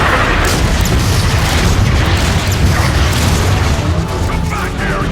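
Artillery strike in the game Transformers: Fall of Cybertron, a loud, continuous rumble of booming explosions and mechanical clatter that eases slightly toward the end.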